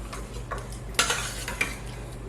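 A spoon stirring a pot of diced tomatoes, a few scraping strokes and clinks over a low sizzle and steady kitchen hum, close and brief.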